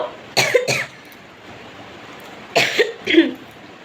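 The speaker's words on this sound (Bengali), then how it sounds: "প্রচণ্ড কাশি হচ্ছে" A person with a cold from a night under the fan coughs close by, a quick double cough followed after a pause by another pair of harsh coughs, with quiet in between.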